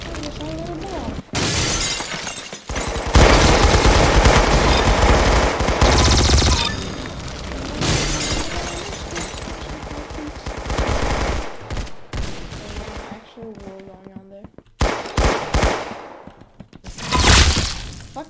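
Tommy gun fire in the Roblox shooter Arsenal, loud rapid automatic bursts with breaking-glass crashes, running almost continuously with brief gaps while players talk excitedly over the action.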